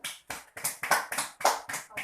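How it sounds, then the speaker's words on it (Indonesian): A classroom group claps hands in short, evenly spaced bursts, about eight sharp rhythmic claps in quick succession, fairly close and moderately loud. "Oke, tepuk tangan untuk kita semua."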